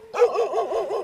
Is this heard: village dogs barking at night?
yes